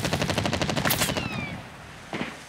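Rapid automatic gunfire from a machine gun in the military shooter Medal of Honor: Warfighter, a dense rattling burst of repeated shots that fades out, followed by one more sharp report near the end.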